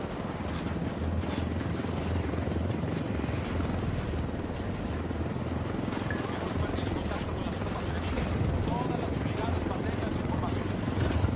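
Helicopters in the video game Ghost Recon Wildlands make a steady rotor drone throughout, with game voices and action sounds mixed over it.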